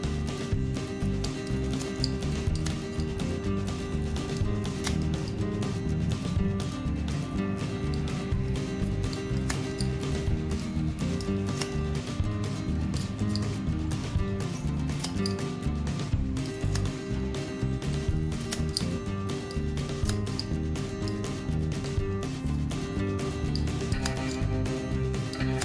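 Steady, dense snipping and clattering of scissors cutting cooked beef, continuous and close throughout with no talking.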